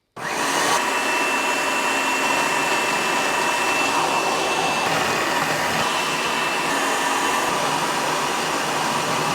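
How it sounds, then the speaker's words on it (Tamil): A food processor with a reversible shredding blade grinds through seven carrots, a loud steady whirring motor roar that starts abruptly and runs without pause for several seconds. "இப்போ ஒரு 7 கேரட்டை வந்து வித்தின் 5 to 6 செகண்ட்ஸில் ஃபுல்லாக ஷ்ரெட் பண்ணியாச்சு"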